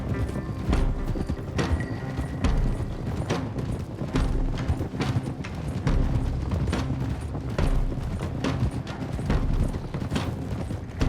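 Several horses' hooves clip-clop steadily across ground in Red Dead Redemption 2, a dense, continuous rhythm of close hoofbeats with low rumbling underneath and no talk.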